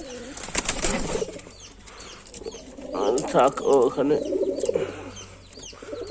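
Lotan pigeons in a breeding cage give soft, bubbling coos in short bursts, close by, with a few wing flutters and someone speaking briefly over them.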